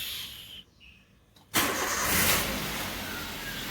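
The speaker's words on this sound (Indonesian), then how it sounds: "Untuk memanasi kondisi mobil tidak perlu lama" Car engine cranking and catching after a short quiet gap, then settling into a steady, fairly loud warm-up idle close by.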